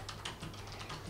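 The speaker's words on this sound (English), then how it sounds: "now we try to do some typing on the notepad" Rapid, steady clicking of keys on a USB keyboard hooked up to an iPad Pro, close and fairly quiet, heard alone with no voices.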